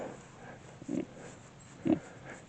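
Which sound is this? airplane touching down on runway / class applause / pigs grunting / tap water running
pigs grunting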